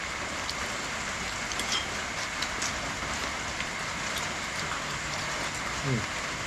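Rain falls in the evening at a fishing spot, a steady patter of drops on surfaces with occasional louder splashes, while people talk quietly over it.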